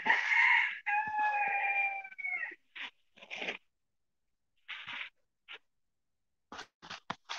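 A small white rooster crows once, loud and near, among hens in a coop, followed by scattered short clucks and scratching noises.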